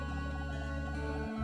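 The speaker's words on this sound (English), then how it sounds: "I tease the chickens." Chickens in the video game Terranigma give a short burst of clucking over a steady synthesized game soundtrack, brief and fairly quiet.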